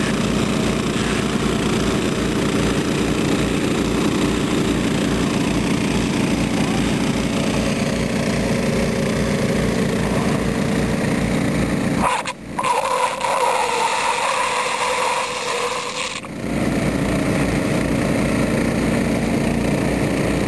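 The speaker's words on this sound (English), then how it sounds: "Maybe if I can stir up enough dust here, it'll clog up their pumps." Pumps draining a park pond run with a continuous, loud engine-like drone. There is a brief interruption and rustle in the middle, then the steady hum resumes.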